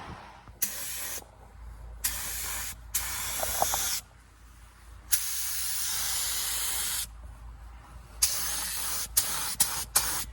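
A 289 engine gets a coat of spray paint: loud, close hissing from the spray can in several long sustained bursts with brief pauses, then a run of quick short puffs.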